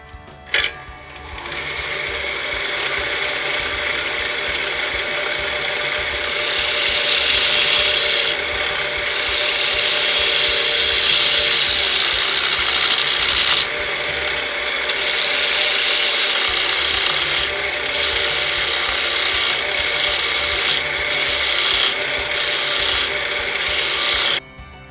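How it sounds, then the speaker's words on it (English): A bowl gouge cuts the face of a wooden tulip clock blank spinning on a lathe, giving a steady, close, loud scraping hiss with bright bursts as the tool bites harder, continuous for the whole stretch and with no talk. "I'm going to use my bowl gouge to clean up the face"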